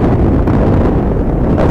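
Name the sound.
gusty wind at a baseball game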